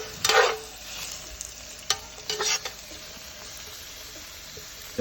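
Lemon garlic vinaigrette whisked in a bowl, with a quick burst of brisk whisking strokes at the start and two shorter bursts later, then quiet between.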